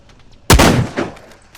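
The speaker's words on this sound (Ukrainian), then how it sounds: "коли я вистрелив зі снайперської гвинтівки" A single loud sniper rifle shot in a war video game set in the Russian-Ukrainian war cracks sharply, then fades through a brief rolling echo tail.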